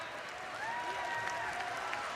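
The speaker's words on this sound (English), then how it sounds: "He's being applauded by the fans." Fans at a junior college basketball Final Four game applaud a player, a soft sustained patter of clapping from the crowd heard at a distance, with arena sounds and voices mixed in.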